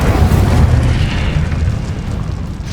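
A loud, close whoosh and roar as the Incendio fire spell erupts in the Hogwarts Legacy video game, a sustained deep fiery blast with crackling rumble filling the whole moment without speech.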